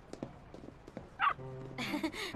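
A dog being taken out for a walk in a drama series: a few short yips and barks close by, mixed with faint footsteps and background noise.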